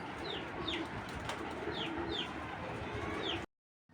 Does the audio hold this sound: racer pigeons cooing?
yes